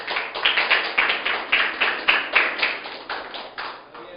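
A church congregation claps in steady rhythm during a Spanish-language sermon, roughly two sharp claps per second, loud and close, with no talking over it.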